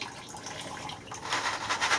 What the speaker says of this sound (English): I'll just pour the peas in there to drain the water.